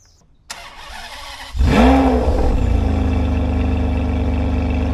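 A Ferrari 599 GTB Fiorano engine cranks and fires, revs sharply once, then settles into a loud, throaty idle that rumbles steadily.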